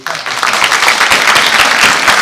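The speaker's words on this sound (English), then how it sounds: "Let's have a round of applause for the" A school district spelling bee audience breaks into a short, loud burst of applause, dense clapping from many hands that starts abruptly and holds steady for a couple of seconds.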